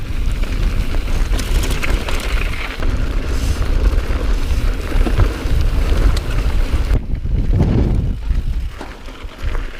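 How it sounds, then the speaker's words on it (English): Rain and gusting wind on a mountain during a thunderstorm roar continuously into the microphone, a loud, dense rush with heavy low buffeting that eases briefly near the end. "And it's raining."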